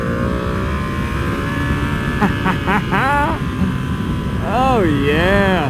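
Ducati Panigale V2 motorcycle ridden along a curvy road, its engine droning steadily up close and rising into sweeping revs as it accelerates through bends, with someone speaking briefly over it.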